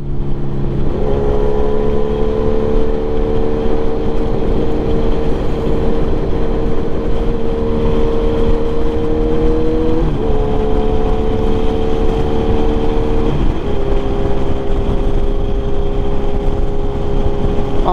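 A Kawasaki Ninja 1000 motorcycle cruising on a mountain road, a loud steady engine drone with smooth pitch shifts as the rider eases between speeds, heavy wind noise throughout.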